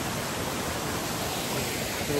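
A mountain stream flowing in Sirubari village, Nepal, giving a loud, continuous broadband rush with no breaks over the whole stretch.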